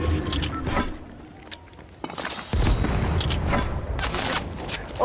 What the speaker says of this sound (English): Grenades, watch out, grenades.